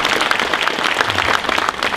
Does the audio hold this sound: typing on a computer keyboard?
no